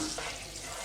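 Garlic sizzles steadily in a hot pan of olive oil and butter, a close, continuous frying hiss with faint stirring.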